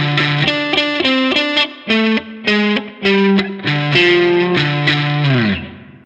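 A distorted electric guitar plays a single-note riff, a loud, close sequence of punchy notes in a repeating pattern, the last note sliding and fading.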